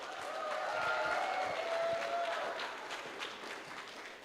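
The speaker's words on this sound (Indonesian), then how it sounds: "Sekali lagi tepuk tangan yang meriah." A school farewell audience claps steadily after a dance performance in a hall, the applause dense at first and thinning gradually over a few seconds, with faint crowd murmur underneath.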